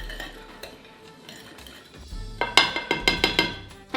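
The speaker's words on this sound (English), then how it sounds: "now you can stir in your raisins" A spoon clinks repeatedly against a bowl while raisins are stirred into crumbly soda bread dough, with a quick run of metallic taps near the end.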